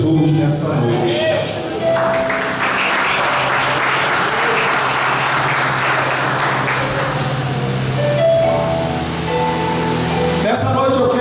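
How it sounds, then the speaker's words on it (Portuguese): Church congregation applauding during a worship service, a dense, steady wash of clapping that carries loudly and continuously for most of the stretch before fading near the end. "E você se assenta aplaudindo a Jesus nessa noite"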